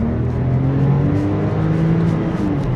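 A Porsche 911 Carrera 997 engine revs loudly and close by, a sustained deep mechanical roar with a steady tone and no speech.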